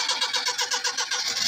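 A car engine that had gone cold turns over and catches, then revs in a rapid, rhythmic pulsing close to the listener.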